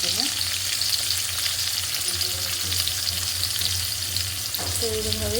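Onions sizzle and crackle steadily in hot oil with ginger, garlic and cumin for a Bengali vegetarian pointed gourd dish, a dense continuous frying hiss with occasional stirring scrapes and no voices.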